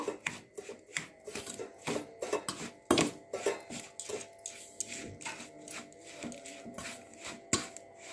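Tamarind pulp is stirred into amla (Indian gooseberry) pickle, making a busy run of close clinks, taps and scrapes of a utensil against the container, irregular but continuous, with no voices.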